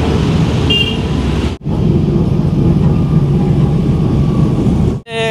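A tractor engine runs steadily during a long road ride, a loud continuous low rumble with road noise, cut by two brief dropouts.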